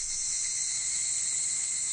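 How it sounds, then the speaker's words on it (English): Dense, continuous buzzing of cicadas in The Fruit of Grisaia game, a loud high-pitched drone that stays steady throughout with no pauses. "Sweet Jesus Christ, cicadas, calm down"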